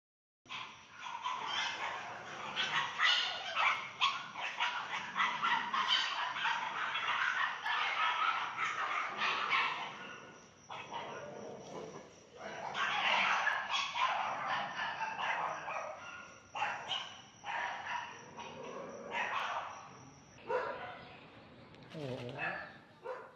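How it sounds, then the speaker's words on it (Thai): A pack of twelve neighbourhood dogs bark and howl loudly together in overlapping bursts, continuous and close, with a rooster or fowl faintly mixed in. "ให้ฟังกันก่อนว่าเสียง หมาเห่าหมาหอนเนี่ยมันดังขนาดไหน"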